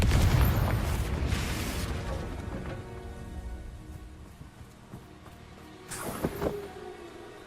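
A Confringo spell explosion in Hogwarts Legacy, opening with a loud booming blast that decays over a few seconds, followed by softer crackles and a smaller burst later on.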